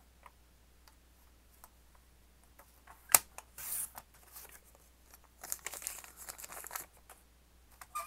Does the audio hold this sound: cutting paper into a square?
yes